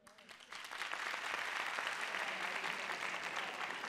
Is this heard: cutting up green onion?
no